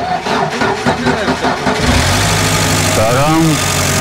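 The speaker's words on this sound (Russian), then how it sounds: "Подтянули генератор и пробуем завести ее" An old UAZ Bukhanka van is started with help from a generator: the starter cranks under talk, then the engine catches and settles into a loud, steady idle with a brief rev near the end.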